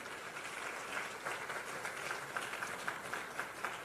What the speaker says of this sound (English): give a big round of applause for my Rotary Foundation Chair, PPA Leung.